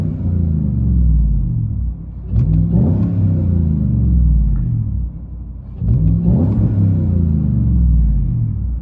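A 2015 Chevy Silverado with a 5.3L V8 and Dynomax Race Bullet exhaust revs twice from a deep idle rumble, each blip swelling loud and throaty before settling back, heard close from inside.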